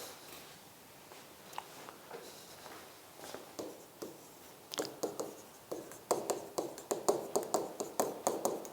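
Chalk or marker tapping and scratching on a board during a Korean law lecture, a run of short strokes that grow louder and faster toward the end, with no talking over them.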